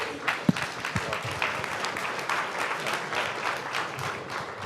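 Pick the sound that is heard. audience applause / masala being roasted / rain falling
audience applause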